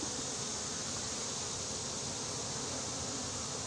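Honeybees buzz around an open hive during a beekeeping inspection, a dense, continuous, steady drone of many bees close by with no talking.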